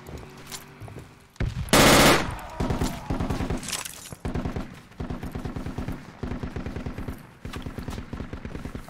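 Gunfire in a tactical infantry video game set in jungle warfare: a sharp close burst followed by repeated rhythmic automatic bursts, fairly loud, with no talk over it.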